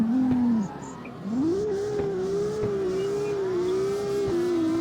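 Simulated car engine revving hard in the CarX Street video game during a drift, a loud sustained tone with a brief dip early on before climbing back and holding high, no talk.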